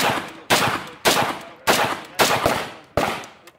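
AK-47 rifles fire at a shooting-range stage in six loud, sharp reports at irregular intervals, each ringing off briefly before the next shot.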